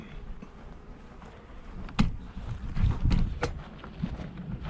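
Honey bee foragers from a queenless hive fly around the hive, making a low, steady buzzing hum broken by a few faint clicks.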